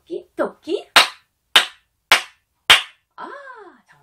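Hands clapping in a Korean children's rabbit-clap finger-play game: sharp, loud claps spaced about half a second apart, following a few short vocal syllables and ending with a voiced call.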